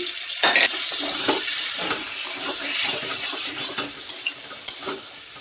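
Potatoes go into a sizzling prawn masala and are stirred, giving a loud frying hiss with repeated scraping and clattering of a spatula against the pan.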